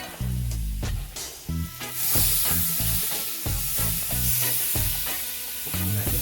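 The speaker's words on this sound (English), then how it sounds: "Let the butter melt." Butter melts and sizzles in a pot that held pork chops, a steady crackling hiss with intermittent utensil clinks and scraping stirs, close and fairly loud, with no talk.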